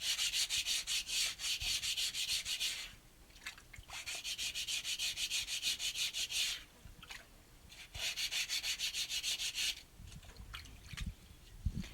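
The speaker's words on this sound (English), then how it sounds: "The sanding goes very quickly." Wood surface being sanded by hand with 220 grit sandpaper to remove scratches left by 120 grit: steady, close rasping strokes in long bursts separated by short pauses, with no talking.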